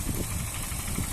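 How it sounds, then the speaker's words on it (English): A Honda Jazz 1.4 petrol automatic engine idling: a steady, low, smooth rumble with faint regular pulsing, heard alone. "engine sound very nice and smooth"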